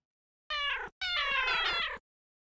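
A house cat meows twice at close range, a short call followed by a longer drawn-out one, loud and clear against silence.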